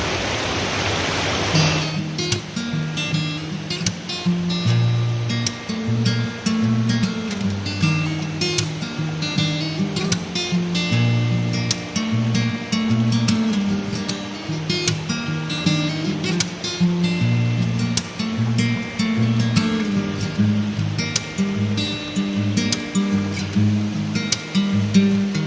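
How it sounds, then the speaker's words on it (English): A natural waterfall pours over a clear, slate-bottomed creek in winter wilderness, giving a steady, unbroken rushing roar throughout, with a light tonal melody running underneath. "These are the natural falls, absolutely beautiful."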